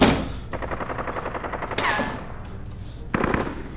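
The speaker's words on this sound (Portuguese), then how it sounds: "Tava em tiro lá fora, não, doido?" Machine-gun fire outside used as a sound effect: rapid repeated shots in a few bursts with short gaps, moderately distant and fairly quiet, with no voices.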